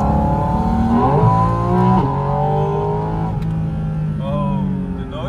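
Rear-engined Porsche pushed to the limit on a gymkhana course, its engine loud and close as it revs and climbs through gears in rising sweeps, with brief shifts and continuous roar throughout.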